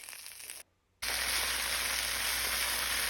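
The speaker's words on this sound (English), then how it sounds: "Saute your broccoli approximately 2 minutes." Broccoli sautéing in olive oil in a pan: a short quieter sizzle, a brief near-silent gap, then a loud, steady, close frying hiss that carries on to the end.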